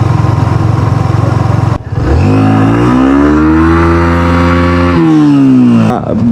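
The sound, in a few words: motorcycle riding along the beach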